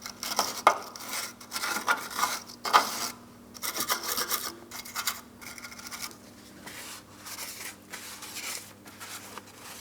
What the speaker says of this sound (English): I'm just going to use a wire brush for this.